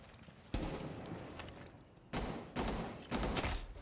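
Gunfire from a competitive tactical shooter video game, with several loud bursts of rapid shots in quick succession and short pauses between them.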